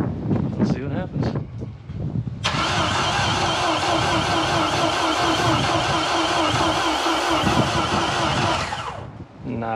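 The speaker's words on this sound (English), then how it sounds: "We're going to roll it out, see if it actually fires up." A boat engine is cranked but fails to start, a loud, continuous, buzzing whir lasting about seven seconds, preceded by brief voices and rustling.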